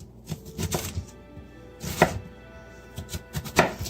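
Knife chopping vegetables into a fine dice on a cutting board while preparing lumpiang Shanghai spring rolls, with irregular clusters of crisp, close knocks separated by brief pauses; no speech.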